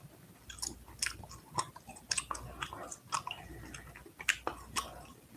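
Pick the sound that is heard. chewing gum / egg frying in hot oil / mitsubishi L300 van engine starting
chewing gum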